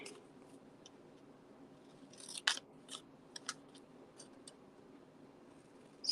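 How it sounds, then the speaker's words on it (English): Several quiet, crisp snips of scissors cutting paper for a pop-up card, irregularly spaced, with a louder cluster in the middle, in an otherwise hushed room. "scissors and cut this."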